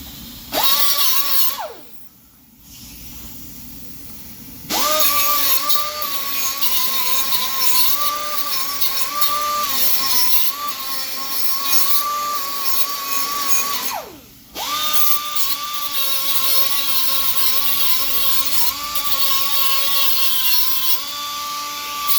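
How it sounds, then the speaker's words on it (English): A cutoff wheel slices through the exhaust pipe beside the catalytic converter of a Jeep Grand Cherokee, a loud, steady high-pitched whine that drops out briefly twice and then resumes, with no talking. "which is where the cutoff wheel comes handy"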